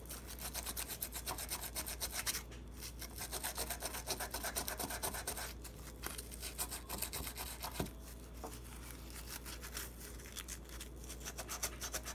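A handgun's black-finished metal is scrubbed with Mother's polish, producing quiet, rhythmic rubbing strokes close by with brief pauses between passes and no voices.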